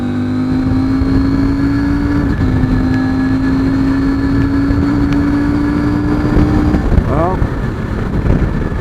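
A 2022 CF Moto 800MT motorcycle cruising at over 100 mph, its engine holding a loud steady drone under heavy wind roar, with a brief spoken word.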